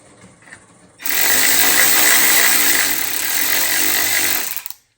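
A bolt is driven back in during a 2JZ AC compressor replacement on a Lexus, using a power tool that whirs loudly and steadily for about four seconds and then winds down after a short quiet start.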